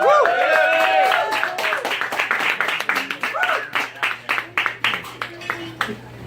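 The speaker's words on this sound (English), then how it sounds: "I just wanted to hear an applause while I was up here." A comedy show audience claps and cheers, the applause starting dense under a few voices, then thinning into scattered, rhythmic claps.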